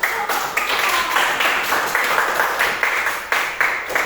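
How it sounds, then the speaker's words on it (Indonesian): Scattered classroom clapping from students applauding a discussion group, uneven with individual claps standing out in a loose rhythm, moderately close and unaccompanied by talk. "Oke, tepuk tangan."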